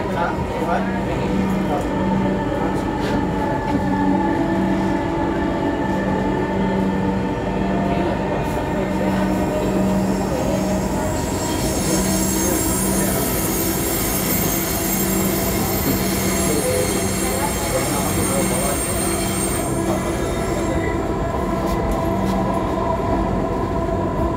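A metro train in Dhaka rumbles steadily along the rails with a sustained metallic wheel squeal, loud and close, and an onboard announcement voice is heard at times.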